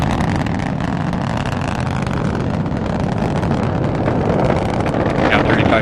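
Rocket boosters roaring during the Parker Solar Probe launch, a continuous broadband rumble that holds steady and loud throughout, with a distant, wind-buffeted quality.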